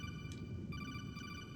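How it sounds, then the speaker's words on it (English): A codec call chime rings in Metal Gear Solid on the PS1, a steady repeating electronic tone pattern with a brighter burst partway through, moderately loud and alone without talk. "It's a phone call telling me about mines."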